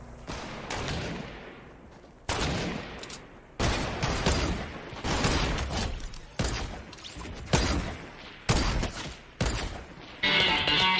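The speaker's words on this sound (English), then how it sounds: "She's a semi-auto sniper somehow." Repeated semi-auto sniper rifle shots in the Fortnite video game, about eight loud cracks each trailing into a short echoing decay, evenly spaced over several seconds with no talk.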